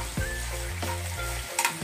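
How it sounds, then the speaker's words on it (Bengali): A chicken mixture with soy sauce sizzles as it is sautéed in a pan, a close, continuous frying hiss under a low hum, with a few short scraping stirs and a sharper splutter near the end. "এটাকে আমি সামান্য কষিয়ে নেব।"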